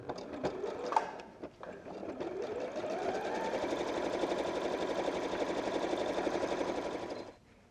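A sewing machine zigzag-stitches down a bag seam, starting with a few handling clicks and knocks before a steady rapid mechanical chatter runs for about five seconds and stops.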